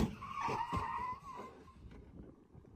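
A Honda car attempting a drift, its tires squealing in a sustained, wavering screech under engine noise that fades toward the end.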